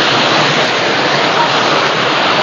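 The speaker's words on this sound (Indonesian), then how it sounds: "area sekitaran sungai yang cukup lumayan deras" A swift river rushes through a valley in Indonesia, a loud, dense and continuous roar of churning water filling the whole clip without a break.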